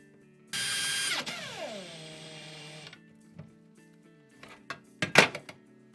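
A power drill whines loudly for a couple of seconds, driving a screw through a corner bathroom vanity unit carcass into the wall, its pitch sagging as it slows, then a few thumps and clicks of handling follow.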